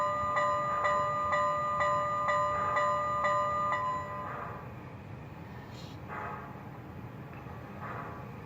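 An MTH Southern Pacific GS-6 4-8-4 model locomotive, #4460, rings its bell with about eight evenly spaced metallic strikes that stop after roughly four seconds, leaving a low hum and faint clicks.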